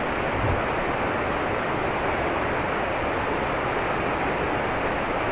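Steady broadband rushing of falling water, constant and unbroken, from the small Rayap waterfall in Nisam Antara, Aceh Utara, Indonesia close by, with no voices.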